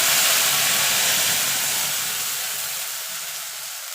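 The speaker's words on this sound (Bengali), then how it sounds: "গোটা দিলে ফোড়নটা একটুখানি ভাজা ভাজা করে নেব" A close, bright sizzle of whole spices hitting hot oil for a vegetarian elephant foot yam curry, hissing steadily and then gradually fading.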